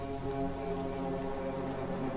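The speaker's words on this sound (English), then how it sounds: "There was a train horn." A low, droning train horn sounds in the distance in the video game Choo Choo Charles, one sustained tonal blast held steadily for a couple of seconds.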